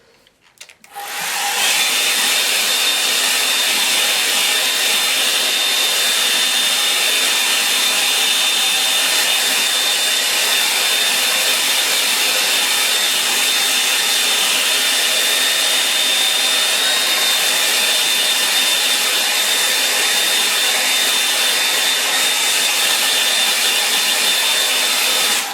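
A hair dryer blows on wet paint, a loud steady whoosh that starts about a second in and runs unbroken to the end with a faint high whine and no talking.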